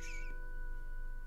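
A Minecraft cat gives one short high meow at the start, clear and close, then the game falls quiet with only a steady tonal hum underneath.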